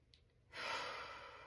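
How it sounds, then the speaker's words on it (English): A single deep breath drawn in through the nose or mouth during a seated yoga practice, a soft airy rush that swells and holds for about a second, close and quiet. "Take a deep breath in."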